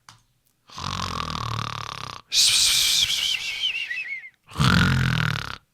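Snoring of a sleeping player character in Minecraft, three loud separate snores with gaps between them, the middle one with a rising whistly wheeze.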